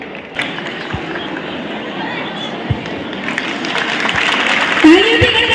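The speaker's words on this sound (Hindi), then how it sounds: "तालियों की गड़गड़ाहट, जोरदार तालियां।" Audience applause at an award ceremony in Bhatapara swells steadily, a dense wash of clapping with crowd murmur that grows louder toward the end.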